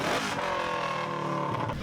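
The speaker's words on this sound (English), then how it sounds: "Jimmy revs an engine" A stock RS1 race car engine revving hard and close, one sustained loud roar that drops away at the end.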